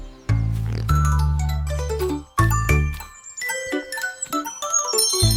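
Bright chiming bells ring over a full children's song backing, tones layered and sustained, fairly loud throughout with a brief dip midway.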